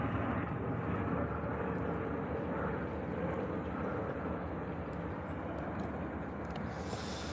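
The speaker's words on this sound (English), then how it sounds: "Helicopter." A helicopter passes overhead in a city, making a continuous broad roar that holds steady at a fair distance.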